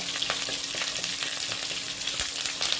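Curry leaves sizzle and crackle in hot oil in a pan while being stirred, a steady close frying hiss with scattered pops and scraping of the spoon, no voices.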